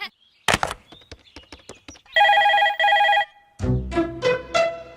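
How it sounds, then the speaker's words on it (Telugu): A telephone rings indoors in short bursts of bright electronic trilling, with scattered clattering knocks before and busy sounds after. "రింగ్ అవుతుందిరా"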